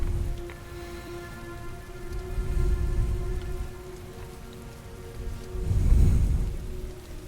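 Steady rain falls in the Heavy Rain video game, a continuous wash of drops with a low droning hum beneath and two swelling rumbles of heavier noise, the second louder, with no talking.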